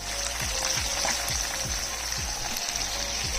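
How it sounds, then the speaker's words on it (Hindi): Chicken pieces frying in a pan give a steady, even sizzle that carries on unbroken, close and moderately loud, with no voices over it. "चिकन पीस को मैं फ्राई करते हुए तकरीबन 10 मिनट हो गए।"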